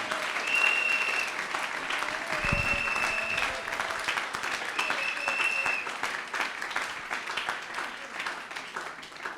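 A church congregation applauding to acclaim the Lord, a sustained wash of clapping that stays even throughout, with tones ringing over it and a brief thump partway through.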